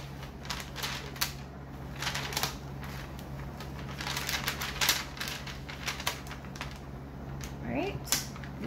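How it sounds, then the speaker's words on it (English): Transfer tape peeled off a screen-printing design on a shirt, a run of crackling, sticky ripping bursts, close and moderately loud, with a person talking over it. "you have to peel off your transfer tape"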